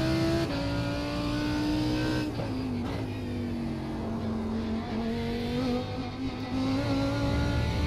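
A GTE Porsche race car in iRacing holds a loud, steady high-revving engine drone with brief gear-change dips, continuous and close throughout.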